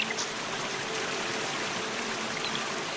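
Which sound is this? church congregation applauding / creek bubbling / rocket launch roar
creek bubbling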